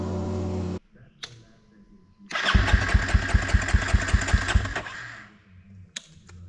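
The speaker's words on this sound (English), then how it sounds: "And hopefully it fires up and runs good." A bike engine fitted with a new spark plug cranks in a rapid, even run of loud close chugs for about two seconds, then cuts off. Brief clicks and handling noises come before and after.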